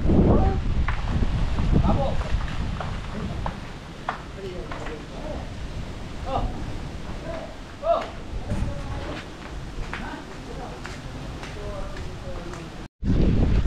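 Strong typhoon Uwan wind buffets an outdoor farm, a continuous rushing roar with gusts and microphone buffeting, while someone talks over it throughout.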